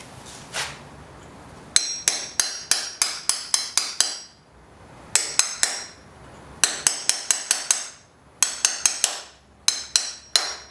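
A Milwaukee impact wrench rattles in quick bursts against a motorcycle's sprocket nut on a Yamaha XJ600, with four groups of sharp repeated hammering blows separated by short pauses, loud and close, with no talking.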